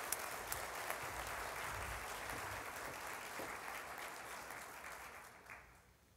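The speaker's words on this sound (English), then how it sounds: "let's give them a warm round of applause while they set up" Audience applause at a competition presentation, a warm, even patter of many hands heard from a distance, fading out toward the end.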